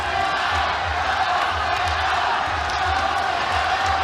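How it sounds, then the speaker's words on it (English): A mixed martial arts fight crowd in an arena in Japan cheers and roars continuously, a loud, dense wash of voices with whoops and shouts rising over a steady hum. "this crowd, which is very uncharacteristic in Japan, are cheering for both Hasegawa and Aung La Fights"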